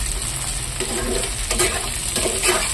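Green chilli and chopped tomato stir-fry for chow mein in a hot pan, a loud continuous sizzle close up with rhythmic stirring scrapes throughout.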